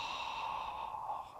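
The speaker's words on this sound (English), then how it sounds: "blow it out of your mouth as much air as you can blow out" A single forceful exhale pushed out through the mouth during a lung-cleansing breathing exercise, a close, breathy rush of air lasting over a second and fading at the end.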